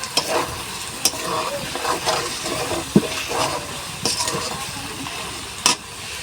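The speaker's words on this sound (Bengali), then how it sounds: "এখন আমি এই মশলাটা দিয়ে শুধু রান্না করে নিব এইভাবে কিন্তু আমরা গরুর ভুড়ি রান্না করি" Beef tripe with ground dried chili spice frying and being stirred in a hot wok, with a steady sizzle broken by sharp scraping stirs near the pan and a few louder clatters.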